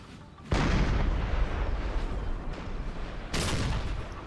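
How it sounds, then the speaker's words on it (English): Heavy artillery barrage in a Napoleon Total War battle: a loud roaring blast of massed cannon fire bursts in near the start, rumbles on continuously, then a second big wave of booms surges in toward the end, with no talk. "That looks like a barrage."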